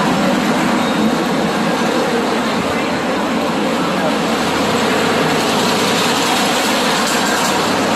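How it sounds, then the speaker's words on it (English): Amusement park ride on the Lake Shaper Express train at Indiana Beach, a steady, loud broadband rumble and rattle of the moving train continuing throughout without pause. "We're now taking a ride on the Lake Shaper Express train."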